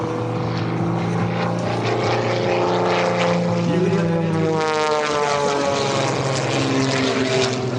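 Aerobatic propeller airplane flying maneuvers at the Wings Over South Texas air show, its engine droning loud and steady with shifting pitch as it climbs and turns, while an announcer talks over the roar.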